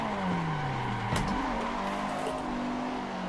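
Toyota AE86 engine in the Assetto Corsa racing sim, revving up and down near and loud with a gear change and a brief tire squeal, no talking.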